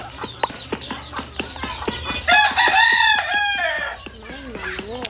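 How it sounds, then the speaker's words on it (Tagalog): Chickens cluck in a rapid series of sharp notes, then a rooster crows loudly in a long drawn-out call, nearby, followed by more soft clucking. "May manok."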